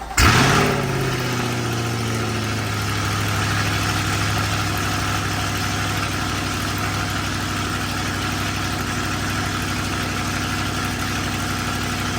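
A Chevrolet Corvette C8 engine idles loudly and close by, with a brief flare at the start before it settles into an even, continuous rumble with no talking.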